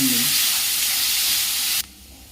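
Green chillies and onions frying in a pan, a loud close hiss of sizzling oil with a brief stirring clink at the start, lasting under two seconds before dropping suddenly to a faint background.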